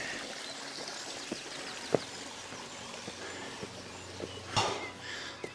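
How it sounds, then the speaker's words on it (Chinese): Water runs steadily in a remote mountain stream deep in Guizhou forest, a continuous rushing wash with a few brief splashes and faint bird chirps far off, no voices. "流水声"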